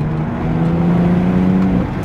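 A BMW X3 M Competition engine pulls hard in the rain, a steady, loud mechanical drone that builds slightly in pitch throughout without a break.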